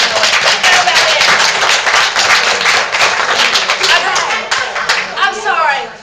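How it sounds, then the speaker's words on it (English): Close, loud clapping during a hot process soap demonstration, a few people clapping quickly with voices talking and exclaiming over the claps, the clapping thinning toward the end. "Come on, applause."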